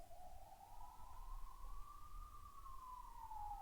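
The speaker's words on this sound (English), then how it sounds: "There's actually 2 ambulances simultaneously coming now." Ambulance sirens sound faintly from outside as a distant, drawn-out wail that slowly rises and falls over a low background rumble.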